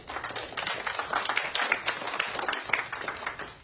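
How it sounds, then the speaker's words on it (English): Studio audience applauding during a televised political interview, a dense continuous patter of many hands clapping, moderately loud and close, without speech over it. "People are clapping for Iran?"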